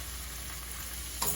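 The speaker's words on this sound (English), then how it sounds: "We're going to stir this up." Onion powder seasoning mix stirred in a non-stick skillet, giving a steady close sizzle and frying hiss with a faint scrape at the end.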